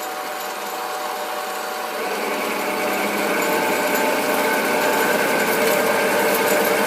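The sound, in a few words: SIEG 7x14 mini lathe cutting with power feed at 600 RPM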